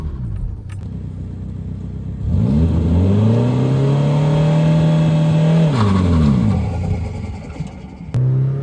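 A drift car doing a burnout: the engine idles, then revs hard and holds high for several seconds before dropping back, loud and close, with a sharp burst at the end and no talking.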